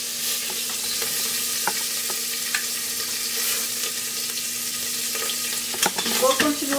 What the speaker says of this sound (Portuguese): E vou continuar dourando aqui, selando aqui toda a carne